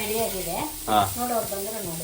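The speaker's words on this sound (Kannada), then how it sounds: "ಮೀನ್ ಫ್ರೈ ಆಗ್ತಿದೆ" Fish fries in a pan at home, a steady hiss of sizzling oil running underneath people talking nearby.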